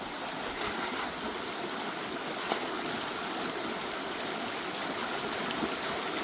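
Rapid stream water rushing steadily in a creek while prospecting for gold in glacial till, a continuous broad close roar with no breaks, no voices.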